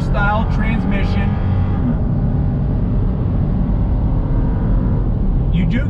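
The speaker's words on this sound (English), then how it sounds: "we're gonna take the 4Runner out on this highway. I'm gonna get on the throttle. That 5-speed drops down." Engine roar from a 2020 Toyota 4Runner Venture accelerating on a highway, its older-style 5-speed automatic dropping a gear; a loud, steady low rumble with wind noise runs throughout, and a voice talks briefly near the start.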